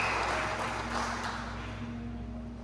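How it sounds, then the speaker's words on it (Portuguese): Congregation applauding in a church service, a diffuse wash of many hands clapping over a steady low hum, fairly even and gradually easing in level. "já dá uma salva de palmas ao Senhor"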